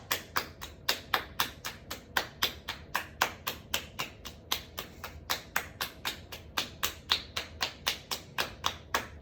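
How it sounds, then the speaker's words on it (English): Bare feet clap together in a steady rhythm during a yoga exercise, around thirty sharp, close slaps at an even pace with no talking. "Give your feet a nice clap."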